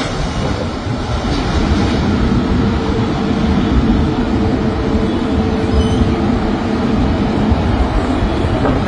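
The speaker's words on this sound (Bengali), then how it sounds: "এই যে ল্যান্ড করে ফেললো বিমানটি।" A US-Bangla Airbus A330 touches down on the runway, heard as a steady, broad engine and airframe roar that holds at an even loudness throughout, with no voices.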